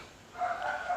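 A dog barks somewhere outdoors in the distance, a short muffled burst that holds steady for the last half of the moment against a quiet backdrop.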